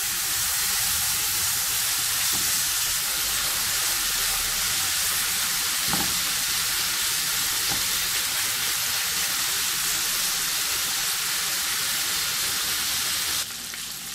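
Ham frying in a small pan for yakimeshi, Japanese fried rice, giving a loud, steady sizzle with dense spattering that runs unbroken from start to finish with no voices.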